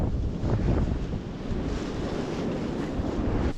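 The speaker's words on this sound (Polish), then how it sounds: "Straszny wiatr." Strong wind gusting over a river in winter, a steady loud roar of buffeting microphone wind with a watery, surf-like wash, continuous throughout with no talking.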